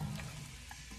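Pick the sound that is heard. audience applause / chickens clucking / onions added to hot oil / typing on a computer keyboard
onions added to hot oil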